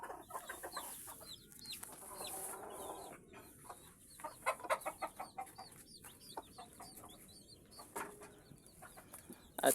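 Mother hens clucking in a backyard flock alongside chicks, with repeated short, irregular clucks at moderate distance and a few sharper calls, and no talking.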